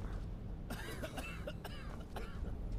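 Characters coughing in the video game Skyrim: a burst of several rough coughs and throat-clearing, close and moderately loud over low background ambience, with no talk.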